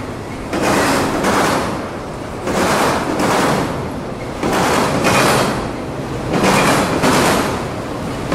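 A freight train rolls past under the US 92 bridge in Auburndale, loud and close, with a steady rumble that swells and fades in a regular rhythm as the cars go by, no voices.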